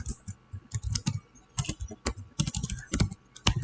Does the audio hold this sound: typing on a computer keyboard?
yes